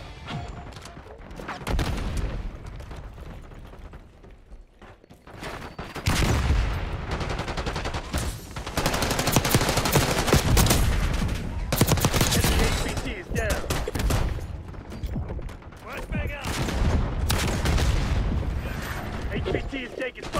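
Sustained automatic gunfire from submachine guns in a Call of Duty match, dense bursts and fusillades rolling almost continuously for twenty seconds, loud and close, with voices calling out beneath the shooting.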